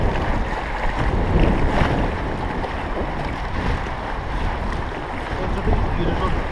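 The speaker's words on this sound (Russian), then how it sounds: "Волны." River waves washing and splashing around an inflatable boat while rafting down the Irkut River, a continuous loud rushing and churning of water close by with wind buffeting the microphone.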